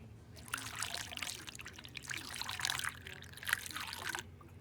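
Coolant trickles and gurgles as it is poured into the cooling system of a 1992 Mercedes-Benz W124, a quiet, close, uneven pour that comes in several surges over a low background hum.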